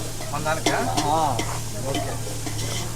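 Chicken being stirred in a sizzling frying pan, continuous loud sizzle with scraping stirs, while a person talks over it.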